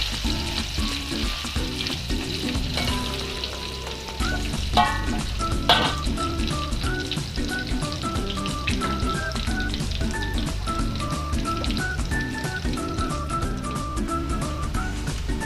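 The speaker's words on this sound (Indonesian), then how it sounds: "Goreng dendengnya sebentar aja karena ini beneran udah empuk banget." Steady crackling sizzle of dried beef slices (dendeng) frying in hot oil, close and continuous, with occasional stirring scrapes and clinks.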